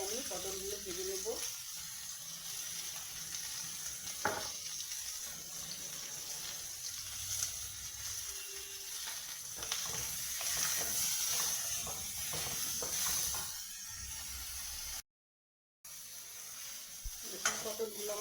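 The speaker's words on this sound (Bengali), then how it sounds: "লবণ হলুদ দিয়ে আমি পটলগুলো ভেজে নেব।" Pointed gourd (potol) pieces frying with salt and turmeric in a kadai, making a continuous bright sizzle with occasional stirring knocks, close and fairly loud, and a brief cut near the end.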